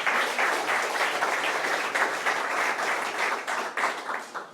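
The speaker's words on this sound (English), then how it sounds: "let's give them a round of applause once again" A startup-event audience applauds after an investor talk, a dense, steady wash of many hands clapping for several seconds, moderately close and loud.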